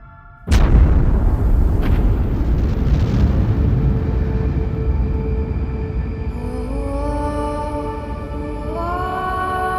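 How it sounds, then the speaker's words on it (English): Supernova explosion sound effect for a star collapsing and blowing apart: a sudden loud boom bursts in, then a sustained roaring, rumbling wash with rising tonal swells toward the end, no speech. "When it runs out of fuel, the star collapses and then explodes with the brightness of 1 billion suns."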